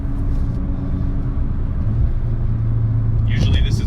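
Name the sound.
Audi S3 driving in dynamic mode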